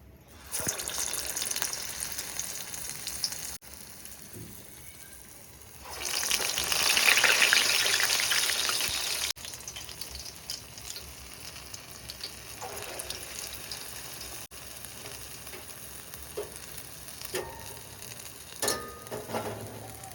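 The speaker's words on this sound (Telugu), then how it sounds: "ఆయిల్ బాగా వేడైతేనే అప్పుడే అండి గారెలు వేసుకోవాలి అప్పుడు బాగా పొంగి బాగా కాలుతాయి" Gare, Telugu lentil vadas, frying in hot oil: a steady crackling sizzle runs throughout and swells loudly for a few seconds when fresh batter goes in, with faint kitchen clatter.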